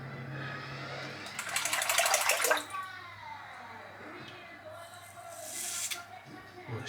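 Tap water running in a bathroom during a head shave: a hissing, splashing stream under a voice, swelling louder at moments.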